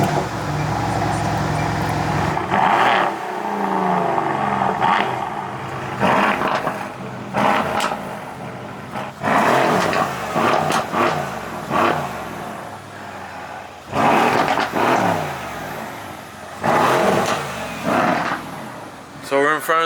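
A Mercedes C63 with a custom exhaust roars through a series of loud, repeated revs separated by short pauses, heard close up with people talking over it.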